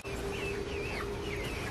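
Newly added farm chickens cluck and chatter softly nearby in a steady stream of short calls over low background noise.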